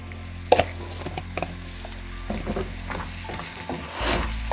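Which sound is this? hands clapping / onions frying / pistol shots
onions frying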